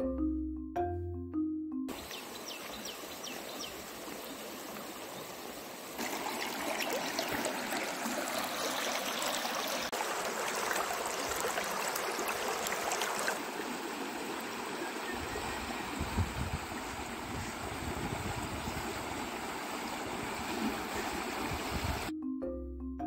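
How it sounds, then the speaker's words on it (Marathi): Steady rushing flow of a slow, cold river, a broad continuous wash that grows fuller midway and then eases slightly, with no voices. "नदी ही अगदी संथ प्रवाहात पुढे सरकत होती"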